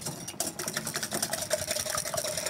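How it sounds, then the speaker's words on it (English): Eggs being whisked in a bowl for a two-egg whitebait omelette, a rapid, steady clicking and rattling of the whisk against the bowl, close and continuous with no talk. "my bowl here and whisk it up. I'm going to do a two egg omelette today."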